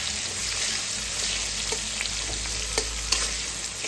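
Sliced onion, slit green chilies, cumin and bay leaf frying in hot oil, a continuous bright sizzle with a few sharp stirring clinks near the end.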